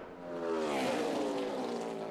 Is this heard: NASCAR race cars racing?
yes